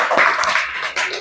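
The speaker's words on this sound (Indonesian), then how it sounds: "tepuk tangan untuk kita semua" Classroom group clapping hands together, a short burst of dense, close applause that fades quickly.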